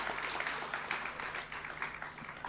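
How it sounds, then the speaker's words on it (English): An audience at a tax seminar gives a round of applause for a speaker, continuous mid-level clapping with a slightly uneven pulse, heard alone without voices. "join with me to give a loud round of applause to CA Unmesh Narvekar"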